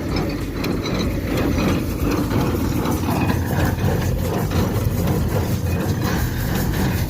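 A small baler pulled by a small tractor chugs and clatters steadily, its engine droning under a continuous mechanical rattle of pressing peas into bales of about 15 kilograms.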